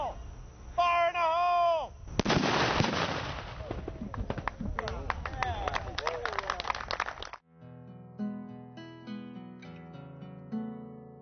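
Cannon fire at a San Jacinto battle reenactment: a loud blast with a heavy rumble, followed by crackling small-arms shots. Voices shout, and the gunfire gives way to a fife-and-drum style tune at the end.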